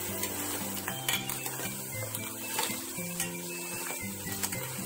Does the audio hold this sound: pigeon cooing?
no